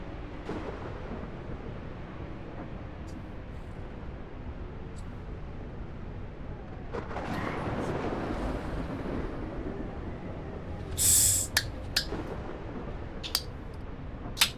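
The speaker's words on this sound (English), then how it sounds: "I hear lightning and thunder." Thunder and lightning storm in the ARK survival game: a steady low rumble of wind and weather building around the middle, with a sharp crack near the end and several brief snaps after it, moderately loud and with no talking.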